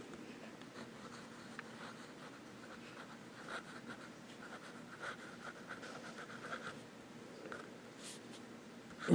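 A Parker 21 fountain pen with a medium steel nib scratching across paper, a faint, continuous close scratch with soft stroke-by-stroke variations and no speech.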